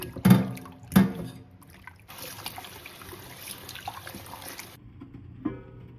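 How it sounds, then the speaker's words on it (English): Vinegar pours over raw chicken in a steady trickle for a few seconds after a couple of soft knocks, close and fairly quiet. "Just pour some vinegar on it."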